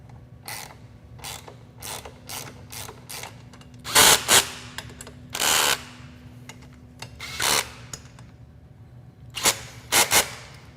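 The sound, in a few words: power tool tightening front axle pinch bolts on a Timbersled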